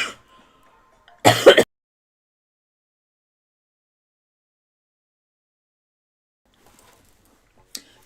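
A single short throat clear or cough breaks an otherwise quiet stretch, with faint rustling before and a tiny click near the end.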